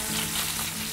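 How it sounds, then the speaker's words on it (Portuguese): Salmon fillet frying skin-side down in a hot pan, a steady dense sizzle with a faint low hum underneath, continuous and close, no voices. "Pode deixar fritar bem"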